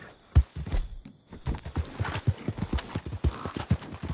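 Horse hooves clip-clopping in Red Dead Redemption II: close, uneven walking hoofbeats on the ground with occasional snorts, someone talking briefly over them.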